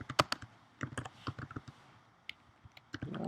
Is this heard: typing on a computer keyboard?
yes